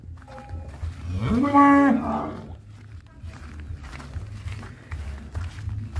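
A large cow in a cattle pen lets out one loud, drawn-out moo close by, followed by quieter rustling and background noise.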